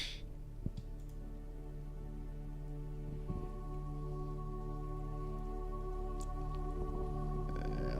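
Steady rain patters continuously in a survival crafting video game, a soft even hiss with occasional faint clicks and a low background hum, no voices.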